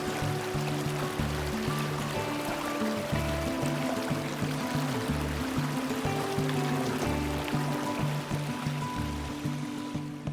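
A river in Snowdonia National Park, Wales, rushes steadily over rocks, a continuous broadband flowing roar that stays close and even throughout with no talking.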